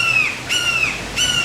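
Birds squawking outdoors near a jon boat being worked on: three harsh, loud, crow-like squawks spaced at a steady rhythm over quiet background noise, no talking.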